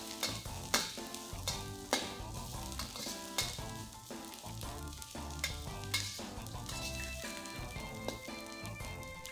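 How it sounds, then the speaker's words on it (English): Garlic and radish stir-fry in a hot pan, bright sizzling broken by repeated spatula scrapes and clacks, close and lively with no voices over it. "Next, add in the garlic and the radish. Fry this for another 30 seconds to a minute."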